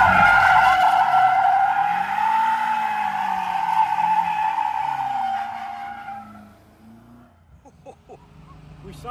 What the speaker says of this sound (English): We're ready to do a nice donut